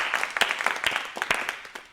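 An audience at a youth poetry gathering claps to welcome a poet onstage: about two seconds of scattered, irregular hand claps from a modest crowd, moderately loud and close, fading at the end.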